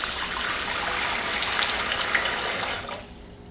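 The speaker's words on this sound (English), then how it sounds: "I can just add cold water to that" Cold tap water gushes steadily over ice in a kitchen while making pie crust, a loud continuous stream that cuts off near the end.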